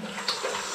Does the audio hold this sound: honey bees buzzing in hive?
no